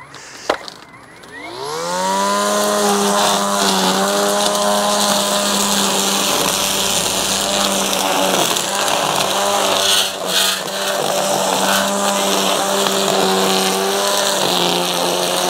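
Litheli U20 battery-powered string trimmer with short line spins up with a rising whine and runs at a steady, loud buzz, its pitch wavering a little as it chops through vegetation, with a brief dip around the middle.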